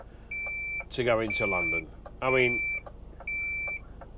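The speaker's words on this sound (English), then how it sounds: "Sorry about the beeping, folks, but that's my side scan." A side scan sonar on a boat sends out regular high-pitched electronic beeps, each about half a second long, in a steady repeating pattern while someone talks over them nearby.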